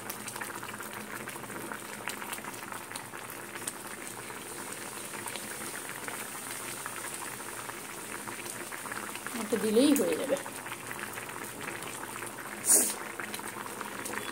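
Chilli chicken sauce boils steadily in a pan with a constant bubbling hiss, and a brief clink of a utensil is heard near the end while someone speaks briefly over it.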